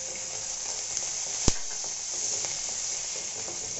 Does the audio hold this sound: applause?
no